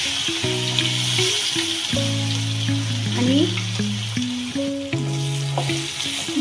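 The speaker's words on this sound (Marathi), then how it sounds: "मिक्सरमधनं काढलेले हे वाटण 1-2 मिनिटं आपण तेलामध्ये चांगलं फ्राय होऊ देऊ।" Ground masala paste frying in hot oil in a pan for vada pav, a steady sizzle with stirring scrapes, under loud tonal background music and a brief spoken word.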